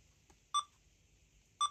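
XP Deus II metal detector on the Fast2T program gives two short, clear electronic tones about a second apart, close and alone over a quiet background.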